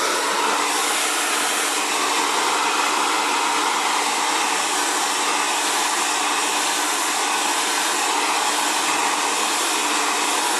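An Xtava Allure Professional ionic ceramic hair dryer running continuously, a loud, steady whooshing blower roar with an even motor whine and no pauses.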